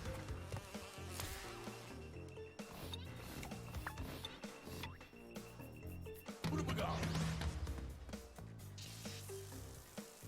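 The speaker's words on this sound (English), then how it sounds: "Not the bees! Oh god, not the bees!" Bees in the video game Crash Bandicoot 2: Cortex Strikes Back make a loud, insect-like buzzing that persists throughout, mixed with busy game music and sound effects.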